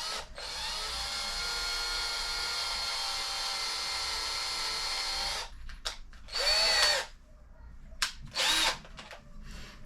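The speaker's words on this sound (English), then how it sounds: "I'm just going to make a little dimple countersink for the head of whatever screw we use." A power drill bores a small countersink dimple for a screw head in a garage door, whining steadily for several seconds, then stopping and restarting in two short bursts with quiet gaps between.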